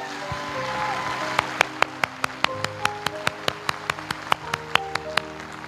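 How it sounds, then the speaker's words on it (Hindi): Audience applause for a senior guest at a motivational business seminar, beginning about a second and a half in as a run of sharp, separate claps over steady background music, without talk. "मैं चाहता हूं तहे दिल से जोरदार तालियां उनके लिए भी होनी चाहिए।"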